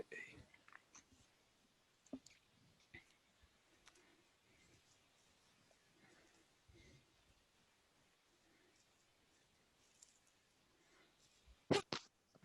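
A single sharp sneeze near the end of a quiet tabletop role-playing session, brief and loud against faint background murmurs and small sounds.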